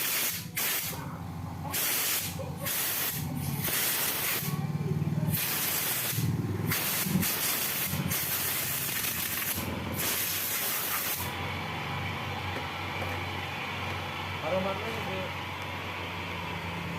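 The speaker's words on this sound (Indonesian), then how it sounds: "kita semprot kemudian pakai angin kompresor dikeringkan" Compressed air from a compressor hisses in long and short bursts while drying the electrical sockets of a Honda Vario 125 motorcycle, loud and close with brief gaps between blasts.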